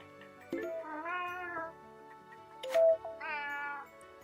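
A cat meows twice, drawn-out and fairly close, with a short sharp squeak between the calls in an otherwise quiet room.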